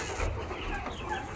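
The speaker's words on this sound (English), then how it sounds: "These are my 5 weeks old chicks." Five-week-old chicks on a poultry farm cluck and cheep in a brief, busy burst, several birds close by with overlapping calls.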